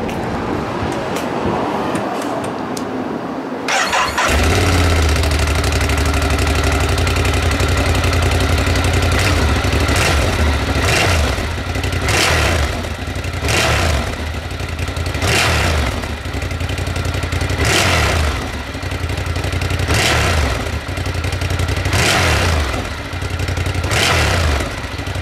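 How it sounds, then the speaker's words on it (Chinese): A 2016 Ducati Monster 1200R motorcycle fires up after a few quiet seconds, then idles loud and close with repeated sharp throttle blips revving the engine roughly every two seconds. "现在老师就发动这一台 Monster"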